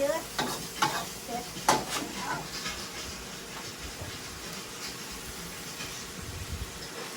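Food being stir-fried in a pan: quiet sizzling under repeated scraping and clattering strokes of a utensil, with sharper knocks early on and softer stirring later.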